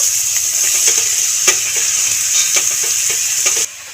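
Finely cut bottle gourd hits hot oil with seasoning already fried, giving a loud, steady sizzle with stirring scrapes throughout that cuts off near the end.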